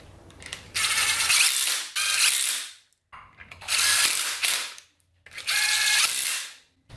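A ratcheting torque wrench tightens bolts to 56 foot-pounds during assembly of a 5.3 engine with Gen4 rods: three loud, close bursts of rapid mechanical clicking, each lasting over a second, separated by short pauses.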